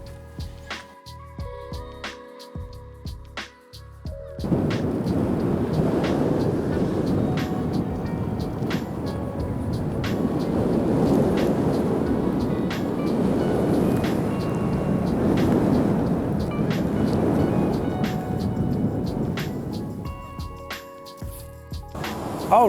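A King Song S18 electric unicycle on a ride, heard as a steady rushing drone of motion and wind that swells and fades over about fifteen seconds, with quieter handling clicks before and after and no talking.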